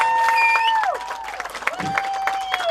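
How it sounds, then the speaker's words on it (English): Audience applause and cheers for a performing group at a festival, loud and close, with sustained tones and whistle-like sounds sliding through the clapping. "another round of applause for these guys"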